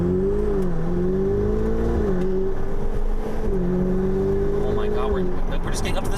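A Ferrari 488 Pista pulls away on a road, its engine rising steadily and dropping briefly at a gear change before climbing again, heard loud and close from inside the car.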